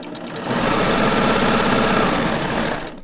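Serger sewing machine running steadily while stitching a draw cord, a continuous close motor whir and rapid needle chatter that starts after a brief pause and holds evenly to the end.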